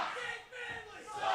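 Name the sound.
wrestling crowd reacting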